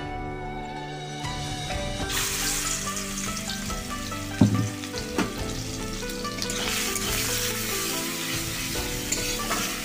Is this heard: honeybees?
no